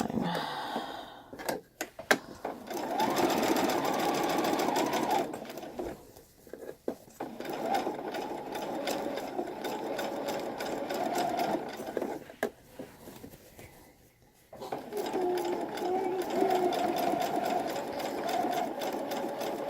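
A sewing machine stitches a second seam on a girl's Civil War era dress, its rapid mechanical whirr running in long bursts broken by brief stops.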